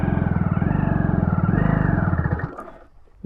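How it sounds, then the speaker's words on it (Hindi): A motorbike labouring uphill on half clutch in second gear on a rough route to a waterfall in Rajasthan. The engine thumps loud and close in a fast, strained rhythm, then bogs down and fades near the end. "हाफ क्लच पे बाइक चलानी पड़ेगी तभी ये चलेगी भाई। जैसे फुल क्लच छोड़ रहे हैं, सेकंड गियर पे भी ये नहीं चल पा रही है।"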